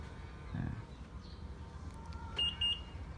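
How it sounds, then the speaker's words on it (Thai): Two short, high electronic chirps from an upgraded car lock confirmation alert sound in quick succession over a quiet, low background hum. "ติดตั้งชุดอัปเกรดเสียงล็อกนะครับ"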